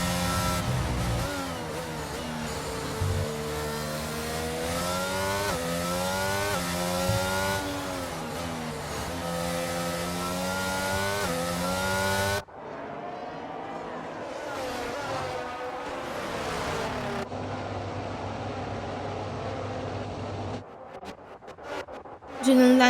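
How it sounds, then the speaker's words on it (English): Race cars in the F1 22 video game at the Spanish Grand Prix, engines droning and shifting pitch steadily throughout, with a game commentator talking over them. "Carlos Sainz and Max Verstappen are having a ding-dong battle as well here"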